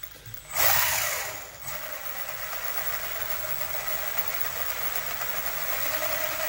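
RC car gears and differentials whirring inside their housing, a steady high mechanical whine that swells briefly near the start and then holds at an even, fairly quiet level with no voices.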